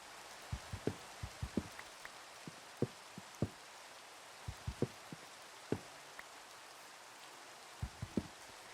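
Rain falling in Minecraft, heard as a soft hiss scattered with distinct, irregular drop taps and knocks, some in quick clusters, fairly quiet and without talk.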